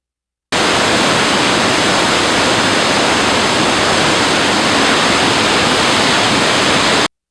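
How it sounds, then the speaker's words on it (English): The swollen Urubamba River at Aguas Calientes, Peru, flowing powerfully after heavy rain: a dense, steady roar of rushing water, loud and continuous with no pauses or voices. "The powerful flow of the Urubamba River in Aguas Calientes, Peru, likely swollen from heavy rains."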